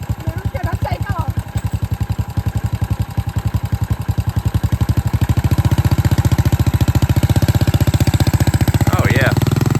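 Vintage Honda XL250 dual-sport motorcycle pulling away, a close, rapid single-cylinder thump that idles unevenly and then builds into a louder, steady revving pulse, with a brief voice near the start and the end.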